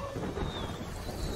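The Sharp Rain attack in the video game Temtem gives a brief, dense rush of rain-like hiss with a low rumble, steady and moderately loud throughout.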